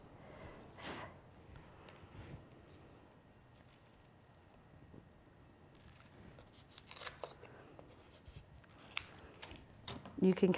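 Scissors cutting out paper panels for a spooky glow ghost craft, faint scattered snips and paper rustles up close, growing louder and more frequent toward the end, with some quiet talking.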